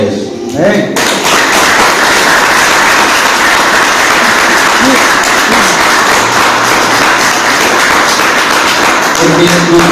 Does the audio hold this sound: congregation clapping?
yes